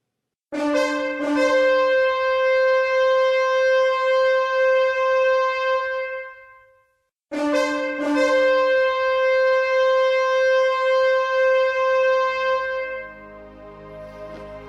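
Two long sustained brass-like tones, each with a sharp attack and steady bright harmonics, held for several seconds with a short gap between them.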